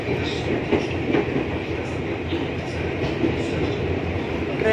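A KRL commuter train runs on the Tangerang-Duri line, giving a steady rumble of rolling wheels and car noise with faint rhythmic clatter throughout, heard from inside the carriage.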